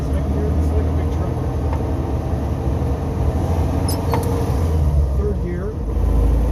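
A six-wheel-drive vehicle's engine pulls in second gear with a loud, steady low rumble close by, heard from inside the cab, while people talk over it.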